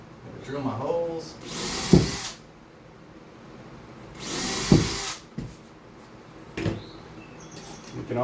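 Two loud, close bursts of a power drill boring holes into a wall while LED uplight shelves are installed, with quiet gaps and small handling clicks between them.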